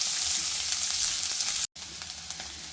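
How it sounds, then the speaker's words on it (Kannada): Chopped onions sizzle steadily in hot oil after a tempering of spluttering mustard seeds, a continuous close frying hiss with a brief silent gap midway, no voices. "ಸಾಸಿವೆ ಸಿಡಿದಾದ ನಂತರ ಈರುಳ್ಳಿನ ಹಾಕೊಳ್ಳಿ. ನೀಟಾಗಿ ಫ್ರೈ ಮಾಡ್ಕೊಳ್ಳೋಣ."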